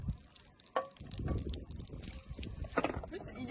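Dishes being washed under running water in a campervan sink, with intermittent drips, splashes and clinks close by while several people chat over it.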